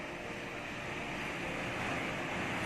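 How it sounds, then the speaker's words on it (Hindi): The Surya Kund waterfall at Gangotri Dham roars as a dense, unbroken wall of rushing water, loud and close throughout with no pauses. "सूर्य वाटरफॉल गंगोत्री धाम। इसका साउंड सुनिए"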